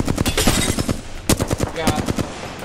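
Rapid bursts of automatic gunfire from the battle-royale game Apex Legends during a duo-mode fight, a dense run of loud, evenly spaced shots with a short pause midway before firing resumes.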